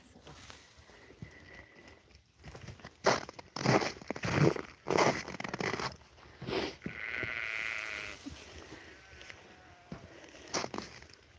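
Purebred American Blackbelly sheep bleat loudly at feeding time, with several close, repeated calls overlapping over soft rustling and movement, and little talk.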